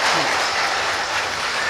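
A devotional satsang audience claps loudly and densely, a continuous close wash of applause with no voices over it.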